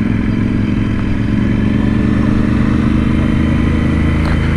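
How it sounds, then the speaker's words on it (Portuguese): A Royal Enfield Interceptor 650 motorcycle engine runs steadily and loudly at close range, a continuous low rumble with a faint rattle and no speech over it. "Olha o barulho dessa moto."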